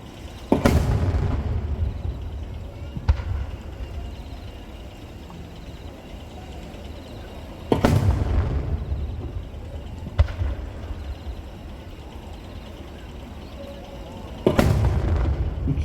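Large fireworks shells burst in booming volleys at the Nagashima Onsen summer fireworks show in August 2025, with three heavy bursts roughly seven seconds apart, each trailing a crackling rumble and a sharper secondary pop over steady crowd ambience.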